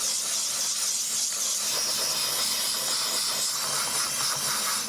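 Steam cleaner hissing steadily while cleaning the steering wheel of a BMW 320d, a loud, continuous broadband jet of steam running for the whole stretch with no talking.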